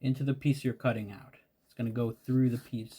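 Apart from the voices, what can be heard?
No everyday noises stand out.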